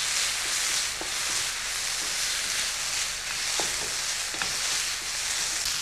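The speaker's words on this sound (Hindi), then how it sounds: "इसको आप भून लें।" Mutton stir-frying in a pan, a steady dense sizzle and hiss throughout with occasional faint clinks of a spoon stirring.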